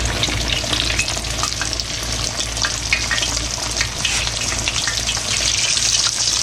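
Pickle-brined chicken thighs and legs fry loudly in a pan on a stovetop, a dense steady sizzle and crackle that fills the whole stretch with no talking.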